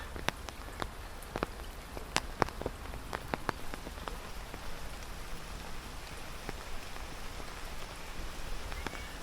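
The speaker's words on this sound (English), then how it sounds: "The rain is just pouring." Steady rain patters and drips across a surface in England, with scattered sharper drops standing out against the constant wash.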